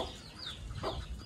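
A hen clucks a couple of times nearby, short throaty sounds over quiet outdoor background.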